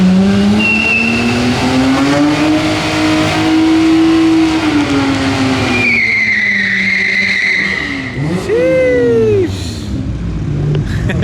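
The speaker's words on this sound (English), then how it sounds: "Actually, he's about to do a little burnout." A car at a meet does a burnout: the engine revs hard and holds high while the tyres screech loudly, then drops and rises again in rising revs near the end, close and loud throughout.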